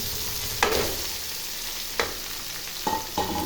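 Ivy gourds fry with onions in a pan, a steady close sizzle that holds throughout, with a few sharp clinks and stirring scrapes breaking through, and no one speaks.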